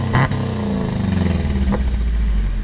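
A Ford Escape with its muffler removed, its engine revving close up, a raw, throaty rise and drop in pitch with a light rattle near the start.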